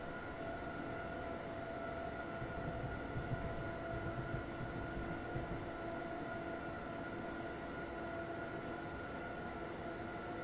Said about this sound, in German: So, und dann rollen wir ganz gemütlich in den Bahnhof ein